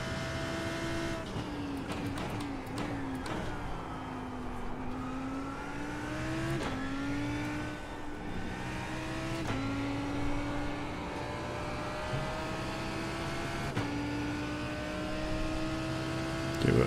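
Race car engine in the iRacing sim holding a steady droning pitch that rises through each gear and drops sharply at every shift, with several upshifts over a long lap stretch, continuous and alone without talk.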